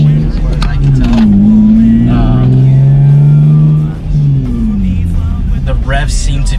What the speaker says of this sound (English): The revs seem to be really smooth